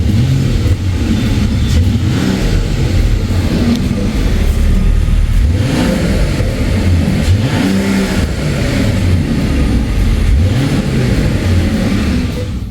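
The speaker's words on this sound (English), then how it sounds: "Let's quickly give it a few revs." A Mercedes-AMG CLE 53 six-cylinder engine is revved while parked, several rising and falling blips over a steady rumbling idle, loud and close, with no voices.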